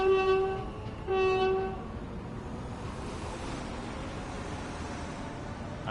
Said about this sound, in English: Let's see the train go.